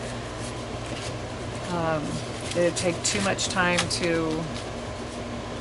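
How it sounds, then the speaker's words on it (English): A home air conditioner hums and buzzes steadily in the background while someone speaks over it in a room. "if you hear some buzzing in the background, that's my air conditioner"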